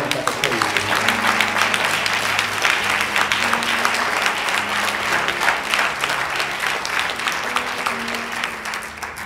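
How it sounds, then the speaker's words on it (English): A church congregation claps in praise during a service, a dense, sustained round of hand claps lasting several seconds, loud and close, with voices and some musical tones underneath. "give God a hand clap of praise"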